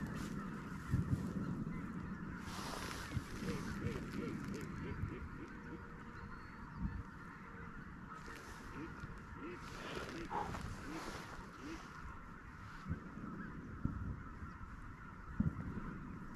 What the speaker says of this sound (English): Duck coming in low right here.